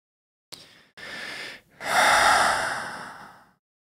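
Slow, deep breathing during a hypnosis session: a short sharp intake, a steady breath, then a long loud exhale that gradually fades, heard close with no talking.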